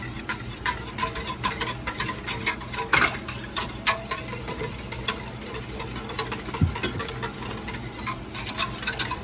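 Homemade sweetened condensed milk being stirred in a pot, with a spoon scraping and clinking against the sides in an uneven rhythm over a faint bubbling sizzle, close and fairly quiet, with no talking.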